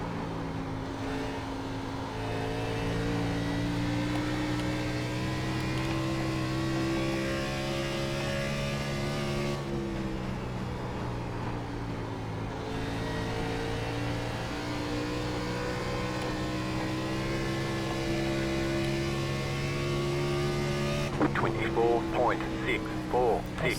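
Engine drone of a NASCAR Xfinity car lapping Rockingham in the iRacing sim, a steady harmonic whine sweeping up and down through the gears, with a voice talking over it.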